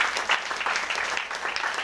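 A church congregation claps in a brief burst of lively, uneven applause, moderately loud and continuous with no talk.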